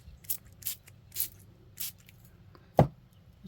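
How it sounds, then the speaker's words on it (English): Four short hissing bursts of ink sprayed onto paper at a steady pace, close and fairly loud, followed by a single dull thump over a quiet background. "what if I then come up and spray some?"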